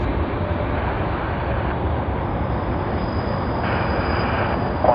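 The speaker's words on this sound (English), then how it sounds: "let us capture Singapore Airlines SQ231 on their A380 that has just touched" A Singapore Airlines A380 airliner touches down at Sydney Airport, heard as a loud, steady, broadband roar of engines and rolling wheels that fills the whole stretch without any voices.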